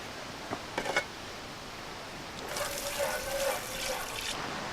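Water bursts from a garden hose after a few faint knocks. It becomes a moderate, steady hiss of spray that runs to the end.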